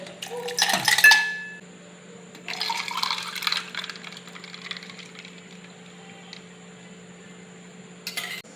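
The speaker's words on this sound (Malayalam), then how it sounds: "ഐസ് ക്യൂബ് ഇട്ട് കൊടുക്കുക ഗ്ലാസ്സിനകത്ത്" Ice cubes dropped into a glass for homemade cold coffee, a clattering burst of clinks up close followed by a longer rattling settle and a faint final tap, with no talking.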